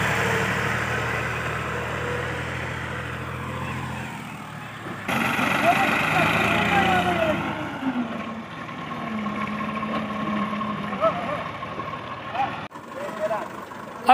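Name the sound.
tractor engine being started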